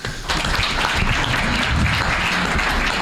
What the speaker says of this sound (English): a bunch of applause again, please